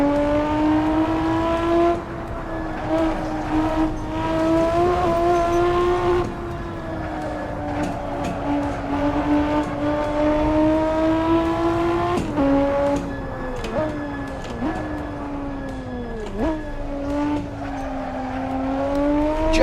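Race car engine in the Assetto Corsa driving sim, a steady loud tone that rises and falls with gear shifts and throttle lifts, sometimes with brief tire squeal, running continuously with no talk.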